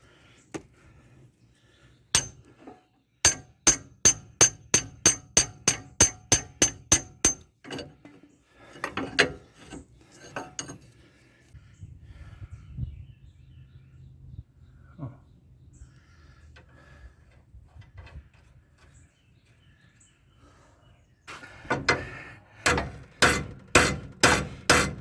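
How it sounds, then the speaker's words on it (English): A hammer beats on a stubborn, frozen sway bar link on a Jeep Grand Wagoneer, sharp metallic strikes in rapid bursts of about a dozen, then scattered knocks and scraping, and a final fast volley of blows. "sometimes you will have to beat the hell out of these things"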